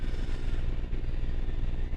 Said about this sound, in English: Somebody's mowing their yard in the area,